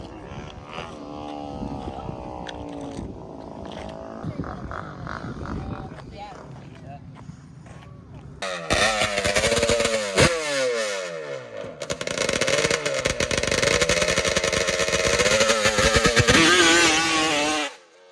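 A custom 130 hp Yamaha Banshee two-stroke race quad revs hard and close. Its rising and falling engine notes sweep up and down in quick, loud bursts that grow more intense partway through.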